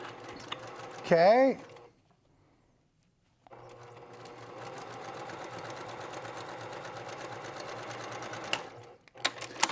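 A sewing machine stitches the third side of a lined zipper pouch in a steady mechanical whir, with a short pause in the middle before the stitching resumes. It is close and moderately loud, and a brief spoken word comes before it.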